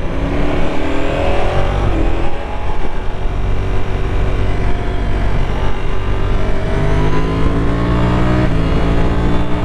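A 2025 Ducati Panigale V4S on its stock exhaust accelerates hard in an urban setting, a loud, dense, continuous engine roar with rising pitch sweeps as it climbs through the revs, heard up close.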